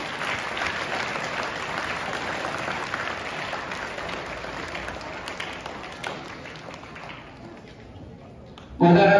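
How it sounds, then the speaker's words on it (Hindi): Audience applause at a school Children's Day function at a college in Rajasthan, a dense sustained patter of clapping that slowly fades, ending with a sudden louder burst of sound. "उसके लिए भी तालियां।"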